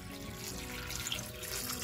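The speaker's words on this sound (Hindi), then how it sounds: "तो अब हम अंगूर में पानी डालेंगे" Water pours from a tap onto grapes being washed, a steady, soft rushing splash that runs continuously without pause.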